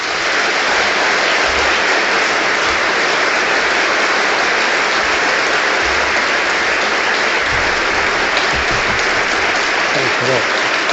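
Large audience applauding Paul Keating at an event in Victoria, dense, loud, sustained clapping that holds steady throughout, with a few voices faintly mixed in.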